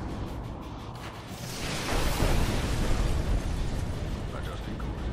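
Bombing-run explosions in Command and Conquer 3 Kane's Wrath: a heavy, rumbling roar swells after a couple of seconds and then holds as a dense, continuous blast of noise.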